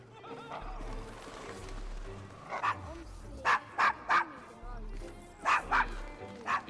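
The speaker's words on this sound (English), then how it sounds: "Is your dog quite all right?" A dog in the Assassin's Creed Syndicate video game barks in short sharp bursts, several yips in two clusters, mid-distance, under in-game character dialogue and background ambience.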